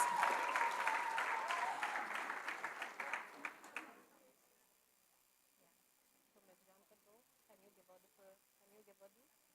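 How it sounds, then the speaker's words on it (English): Audience applause at a 2023 junior school graduation ceremony, honoring the graduates' academic success: dense, steady clapping for about four seconds that then stops, followed by faint, quiet voices in the background. "a round of applause for the academic success of the graduates"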